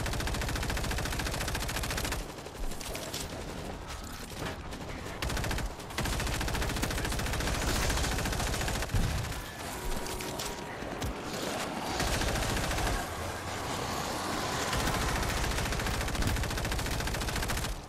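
Sustained automatic gunfire in WWZ: Aftermath, rapid dense bursts of rifle and machine-gun fire nearly continuous for the whole stretch, loud and close, with a couple of brief pauses.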